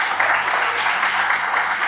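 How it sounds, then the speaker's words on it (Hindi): An audience at a poetry performance breaks into applause for the poet's brother, a dense, steady wash of clapping from many hands that lasts the whole moment. "प्लीज़ जोरदार तालियां हो जाए उसके लिए"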